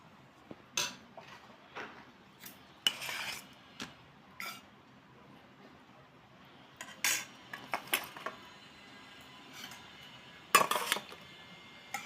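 A spoon serves food into a bowl, giving scattered light clinks and scrapes of metal on dishware spread across a quiet stretch, with a few sharper knocks standing out.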